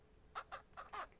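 Chickens cluck in the farming video game Ranch Simulator, four short clucks in an uneven rhythm, near and clear with no talk.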